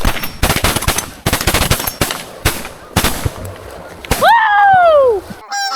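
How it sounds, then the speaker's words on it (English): Shotguns fire at geese during a North Carolina goose hunt, with a rapid volley of sharp, loud blasts in clusters, followed by a long descending honk-like call near the end. "Want to shoot them behind us?"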